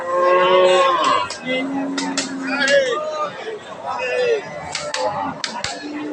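A large crossbred dairy cow of Sahiwal type at a cattle market gives repeated loud, close moos with rising and falling tones, while people talk in the background.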